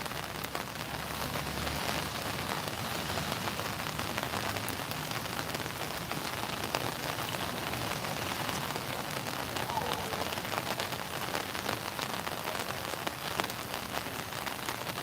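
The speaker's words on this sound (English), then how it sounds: "Hear the rain." Steady rain patters on surfaces, a dense hiss that continues evenly throughout without any talking.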